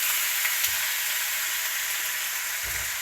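Food sautéing in a home kitchen pan gives a steady, fairly quiet broadband sizzle, with a couple of faint low knocks from stirring and no talking.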